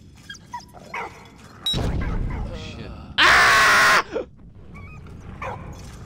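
A dog in the video game Valiant Hearts barks in short bursts, with one loud sustained bark-like cry in the middle, among game sounds and a person talking.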